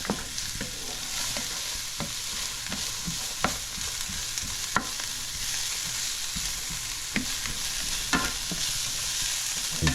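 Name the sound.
carrots sautéing in a pan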